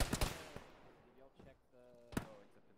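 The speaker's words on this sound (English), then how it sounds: "there's a guy that shooting at us from the north" Enemy gunfire in the video game Arma sounds as a few sharp shots, a quick pair at the start, another near the middle and one more later, quiet and under a voice talking.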